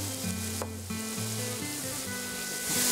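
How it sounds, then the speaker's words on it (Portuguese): Leek fries in olive oil with a soft, continuous sizzle and light stirring scrapes, while a faint tonal hum runs underneath. "Porque eu quero que ele dê uma fritadinha, principalmente essa parte verde, que é mais durinha."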